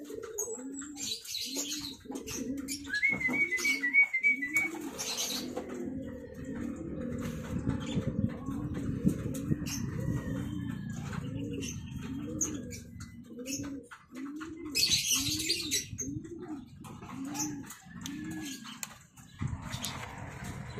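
Pigeons coo repeatedly in soft, low, rolling calls, with occasional chirps from other birds and faint background activity.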